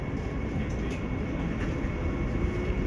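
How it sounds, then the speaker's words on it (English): Train pulling away from a station in central Berlin: a steady, loud broadband rumble and rolling noise runs throughout, with no distinct clacks and no speech. "So now the train has started"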